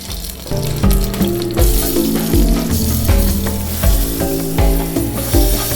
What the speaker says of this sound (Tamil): கருவேப்பிலை நல்லா பொரிஞ்சு வந்ததுக்கப்புறம் பச்சை மிளகா காரத்துக்கு தேவையான சேர்த்துக்கலாம்